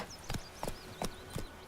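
A horse's hooves clip-clop at a steady walking pace in The Witcher 3: Wild Hunt, with four distinct, evenly spaced hoofbeats over faint whistling background tones.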